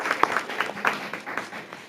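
Audience applause for students at a school board meeting, a short burst of scattered clapping from a modest crowd, fairly quiet and steady for under two seconds.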